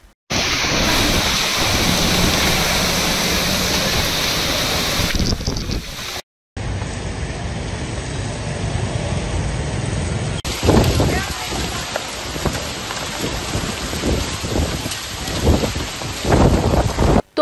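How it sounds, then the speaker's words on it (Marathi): A thunderstorm in Akola brings a steady, dense roar of heavy rain and gusting wind, with low rumbles, across several abruptly cut outdoor recordings that are loud throughout. "पण वादळी वाऱ्यासह पावसाचे आगमन झाले"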